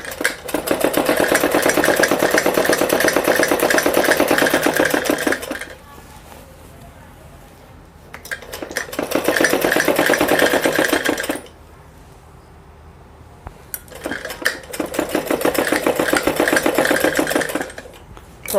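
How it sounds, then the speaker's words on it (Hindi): A sewing machine stitches a Patiala salwar in three long bursts of fast, even whirring, each lasting several seconds, separated by short pauses in which the motor drops to quiet; loud and close. "इसी तरह से हमको सारी सलवार पर ऊपर की तरफ सिलाई लगा लेनी है।"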